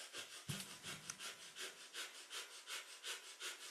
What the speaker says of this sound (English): this is our panting breath through the nose